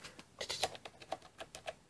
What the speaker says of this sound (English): Ooh, the typing sound.